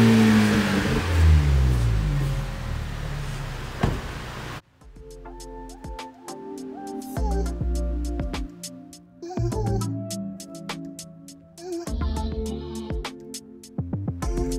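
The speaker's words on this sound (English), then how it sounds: "Let's see what the Speq series Magnaflow sounds like." A Toyota Tacoma pickup with a Magnaflow Speq series exhaust revs repeatedly, the engine rising in several short blips with gaps between, loud and close, after some noisy background at the start.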